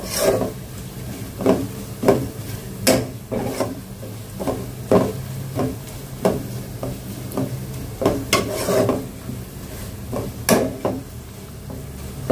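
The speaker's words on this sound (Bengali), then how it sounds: "তো জিরাটা দিয়ে জাস্ট কয়েক মিনিট ভাজবো" Whole cumin seeds frying in a pan, heard as a faint sizzle under rhythmic, repeated scraping strokes of a spatula stirring them, close and steady throughout.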